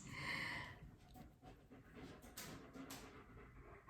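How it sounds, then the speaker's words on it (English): A tired dog pants rapidly after a walk, a close, breathy rhythm with a faint whimper at the start, heard alone indoors. "is tired from the walk"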